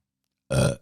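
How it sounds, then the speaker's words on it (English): A single short, close burp from a man, loud and abrupt, alone after a brief silence. "Excuse me, I burped."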